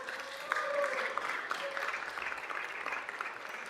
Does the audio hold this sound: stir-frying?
no